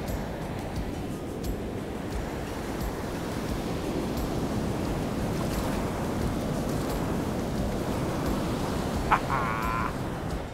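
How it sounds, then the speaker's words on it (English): The Neiden River in northern Norway rushes steadily near a waterfall, a broad constant roar of flowing water heard up close, with a brief faint tonal sound near the end. "scoop up some of this water from the Neiden River."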